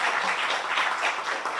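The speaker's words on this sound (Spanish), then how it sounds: "Vamos a dar unas fuertes palmas a todos los que están" Audience at an international congress on plastics breaks into applause, a dense, steady clatter of many hands clapping for the whole stretch with no voices over it.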